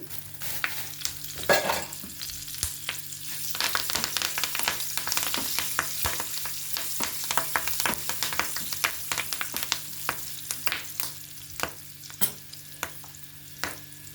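Dried red chillies and curry leaves fry in hot oil for an egg and raw banana pulusu, a soft sizzle broken by frequent scraping, clicking stirs of a spoon against the pan, close up and without talk.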